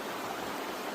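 Water pouring from a small waterfall used for outdoor bathing at a boondocking campsite, a steady close broadband rush with no voices over it.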